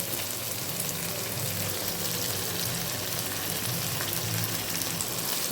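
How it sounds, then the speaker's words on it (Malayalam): Dried shrimp fry in oil with a steady, dense sizzle that crackles on without pause, close and fairly loud, with no voices. "ചെമ്മീൻ നല്ല പോലെ മുരിയട്ടെ എണ്ണയിൽ"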